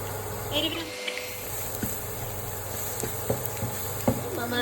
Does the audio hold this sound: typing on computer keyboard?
no